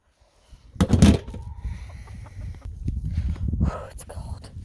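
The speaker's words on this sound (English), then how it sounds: "Chickens do not mind the snow that much." Chickens on a homestead in snow and cold weather, clucking softly with footsteps and rustling nearby, including a louder burst near the start, followed by steady low shuffling activity.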